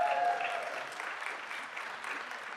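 Applause with scattered cheers from an audience at a city council meeting, steady and fairly distant, holding for the whole stretch without words.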